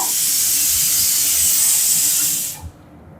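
Dried anchovy masala sizzles loudly in a hot pan as it is sautéed, a dense steady hiss that cuts off abruptly near the end.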